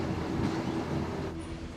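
Scenic passenger train rolling through the Canadian Rockies from Vancouver, a steady, loud rumble of wheels and carriage with a sustained low hum, continuous throughout.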